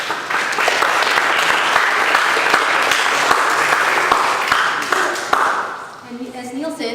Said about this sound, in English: Let's give the APIASF team and Neil a round of applause for that